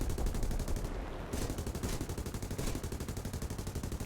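The V-11 aircraft's four guns in War Thunder fire in long rapid bursts, a dense rhythmic rattle that briefly stops before resuming.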